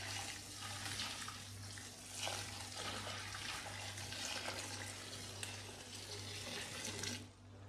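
Boiled water is poured, a steady close splashing stream running for several seconds over a low hum before tapering off at the end.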